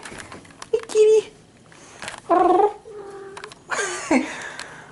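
A pet cat gives several short, close meows and chirps in separate bursts, with a person's voice speaking softly between them.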